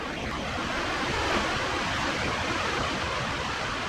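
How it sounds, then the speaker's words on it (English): Steady rushing noise of wind and rain fills the clip evenly, a dense constant hiss with a low rumble and no talking. "we got a windy, wet weather today"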